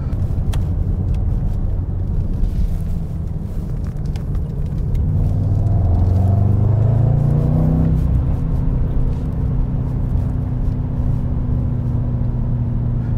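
A 2021 Mercedes-AMG E63 S wagon drives on a street, a loud low engine rumble and road noise from inside the car, swelling into a rising drone mid-way before settling into a steady cruise, with no talking.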